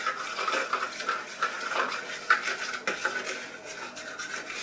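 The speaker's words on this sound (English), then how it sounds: "Give it a good stir. Get that bananas mixed in." Mashed bananas being stirred into a wholemeal bread mixture in a bowl, giving steady scraping and rubbing strokes with a few sharper knocks, close and fairly loud, with no voices.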